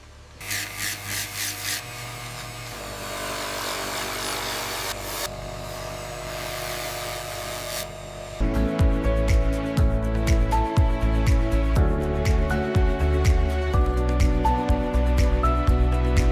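A grey-white Brahman bull horn is polished in a horn and leather processing factory, giving a continuous close rubbing and rasping that steps up louder partway through, with no talking.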